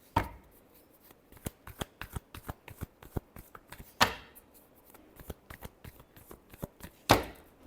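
Tarot cards are shuffled by hand in quick riffling bursts, with sharp louder riffles at the start, near four seconds and near seven seconds and lighter card flicks between them, close and with no talking.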